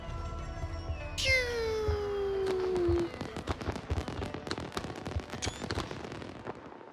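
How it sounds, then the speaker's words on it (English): Fireworks celebrate a completed wonder in Civilization VII, with a whistling rocket sliding down in pitch, then a long run of crackling pops and bursts at moderate loudness. "Fireworks."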